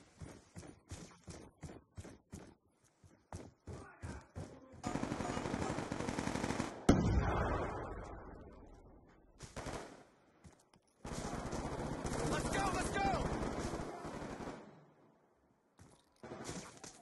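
Rapid bursts of automatic gunfire in Call of Duty Black Ops II, starting as a string of sharp separate shots, then two long sustained loud volleys with a brief pause between, close and dense.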